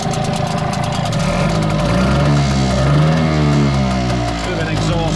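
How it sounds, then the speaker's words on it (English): A Hangkai 6hp Chinese two-stroke outboard motor runs in the water, a steady, loud buzzing engine drone throughout with slight pitch shifts, and a voice talking over it. "fairly smoky, but it's a Chinese two-stroke"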